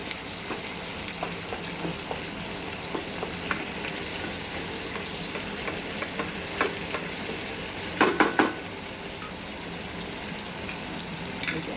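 Ginger garlic paste fries in a kadai for chicken karahi, a constant close sizzle broken by scrapes and clinks as it is stirred, with a few louder clatters near the end.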